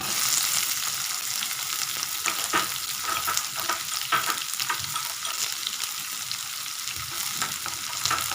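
Onions fry steadily in a pan for Chennai-style prawn thokku, a continuous close sizzle broken by occasional stirring scrapes, with no voices.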